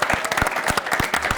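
Live audience applauding rap battle contestants at a Red Bull Rap Jeu event, a short burst of dense, steady clapping close by, with a few louder individual claps standing out.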